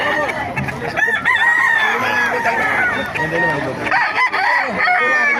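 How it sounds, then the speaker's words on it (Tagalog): Several roosters crow loudly and overlap, with clucking hens mixed in, sounding close and busy throughout, at a pet market in Bocaue. "Napakarami manok dito."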